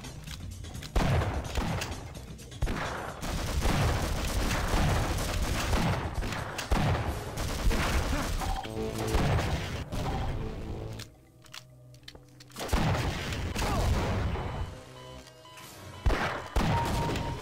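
Gunfire in a Half-Life Source multiplayer match: dense, sustained bursts of shots and impacts, loud and close, with a brief lull before the firing resumes.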